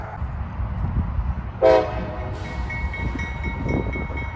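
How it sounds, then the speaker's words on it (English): Rumbling of a passing freight train, I-142 northbound, over a steady low roar, with a short horn salute cutting in midway and a thinner tonal whine after it. "I hear another train coming up from Hamilton there."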